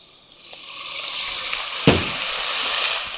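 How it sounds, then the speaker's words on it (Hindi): Garlic paste, ginger paste and a dash of water hit browning onions in a hot pan for jackfruit biryani, giving a steady close sizzle with a brief sharp spit of frying partway through. "इस स्टेज पे इसमें जाएगा थोड़ा सा लहसुन का पेस्ट, थोड़ा अदरक का paste and a dash of water."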